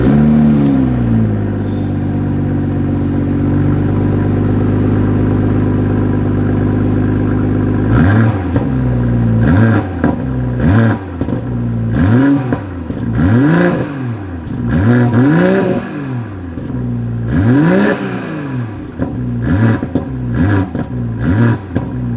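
A 2021 BMW M440i coupe in sport mode, first idling with a steady low rumble, then revved repeatedly in sharp bursts that rise and fall, loud and close, with crackles between revs and no talking.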